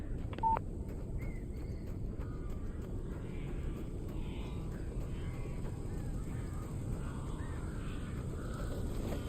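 Crows caw faintly in the video game Alan Wake Remastered against a steady low ambient rumble, with a short electronic beep near the start.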